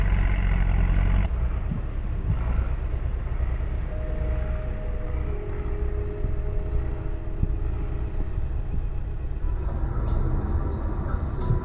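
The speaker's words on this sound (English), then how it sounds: "The TDT 55 roars powerfully." A TDT-55 logging tractor hauling heavy logs on a slippery forest road, its engine giving a steady, loud low rumble that holds throughout, with a brief higher clatter near the end.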